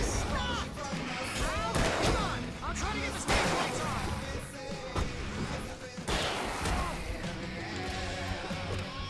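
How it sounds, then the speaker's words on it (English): Fireworks go off in the Alan Wake video game, a dense run of booming blasts and crackling bursts that overlap continuously over a busy, loud backdrop with music-like tones. "I can set off more of the fireworks from here and help you out!"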